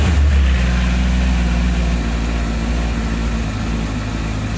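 A Honda CB1000 motorcycle with stock exhaust runs loud and close, cold with the auto choke on, holding a steady, sustained engine drone.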